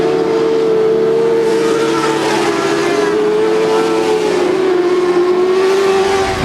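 Race cars lap the track at Whip City Speedway, giving a steady, loud engine drone with a sustained pitched whine that shifts slightly as the cars go around, with no voices over it.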